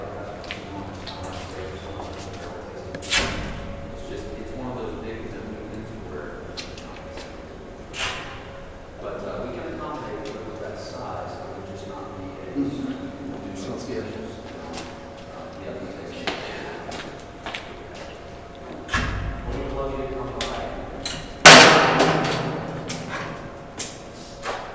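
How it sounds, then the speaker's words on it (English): Bungs are pulled from the openings of wine barrels in a cellar, giving a few scattered thumps, squeaks and one sharp pop, close by under intermittent talking. "we can remove the bungs"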